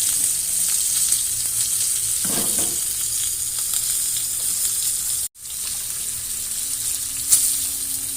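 A thick rib-eye steak sizzles loudly and steadily in a cast iron pan, a close, continuous frying hiss with a short dropout midway and a faint clatter near the end.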